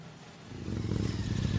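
A loud Interceptor 650 motorcycle engine rumbles up close on a street in Varanasi, starting quieter and building to a deep, steady, throbbing growl with no talking.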